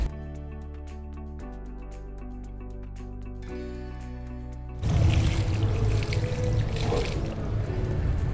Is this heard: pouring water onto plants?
yes